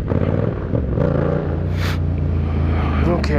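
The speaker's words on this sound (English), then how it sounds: "people keep driving by and like slowing down" Cars passing on a road near a practice area for motorcycle clutch-up wheelies, a steady low engine rumble rising and falling under someone talking throughout.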